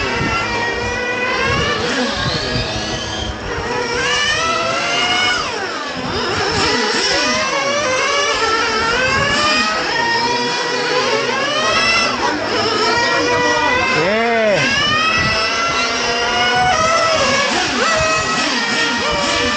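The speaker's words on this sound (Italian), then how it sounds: "fare entrare la seconda e mollare subito per non stressare il motore, ma comunque tenerlo vivace per far aumentare la temperatura" A car engine being run in during break-in revs up and eases off again and again as it shifts into second gear. The loud, close whine rises and falls in repeated sweeps.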